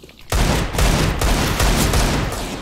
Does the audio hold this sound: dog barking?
no